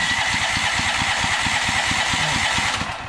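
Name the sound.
Firman dual fuel generator starting on propane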